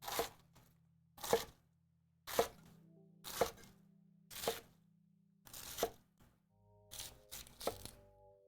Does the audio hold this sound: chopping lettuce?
yes